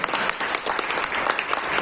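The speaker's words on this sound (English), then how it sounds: "Please clap for her." Brief, dense applause from an audience at a prize distribution ceremony, steady and fairly close for under two seconds.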